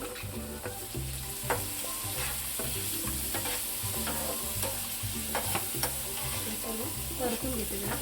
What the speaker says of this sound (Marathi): आधी परतून घेते थोडा वेळ